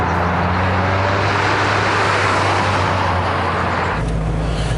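A 20-year-old Mazda MX5 Miata with 112,000 miles on stock suspension drives with a steady, loud engine hum and road roar from inside the car, and the low tone shifts near the end.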